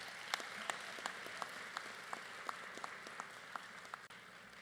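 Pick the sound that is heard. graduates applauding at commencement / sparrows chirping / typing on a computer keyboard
graduates applauding at commencement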